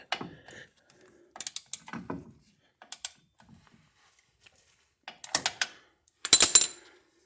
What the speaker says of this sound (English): You got to really tighten it with a ratchet on this one.